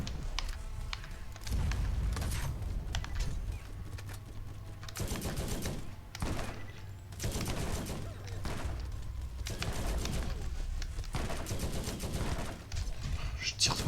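Rapid bursts of gunfire from the video game Borderlands crackle through a busy game soundtrack, with repeated volleys and steady background noise while a player talks over the action.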